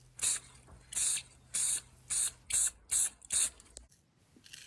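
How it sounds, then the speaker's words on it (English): Seven short, even bursts of hissing clear coat spray from an aerosol can onto a fingerboard deck, evenly spaced, with a faint low hum underneath and quiet rustling after. "I'm going to spray this with a clear coat to protect the paint"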